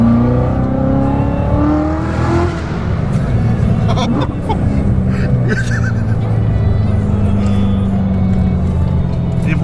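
A Corvette C7 Z06 engine roars and revs continuously up close, its pitch rising and falling as it accelerates, with faint voices mixed in.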